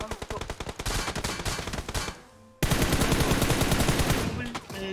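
Bursts of rapid PUBG Mobile gunfire, dense and loud, with a brief lull before a sustained stretch of continuous shooting.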